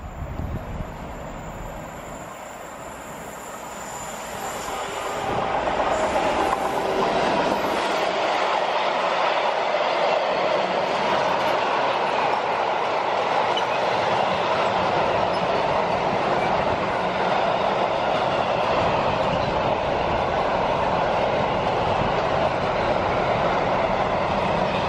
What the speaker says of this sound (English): Now that's what you call a train.